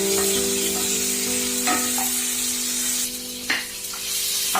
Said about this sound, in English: after garlic, we will add some onions and tomatoes. We need to cook them